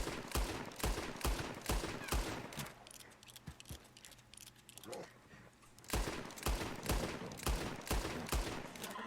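Rapid bursts of gunfire in the video game Red Dead Redemption 2 (Red Dead Online) repeat in a steady rhythm, loud and sharp, with a brief lull in the middle before the shots resume.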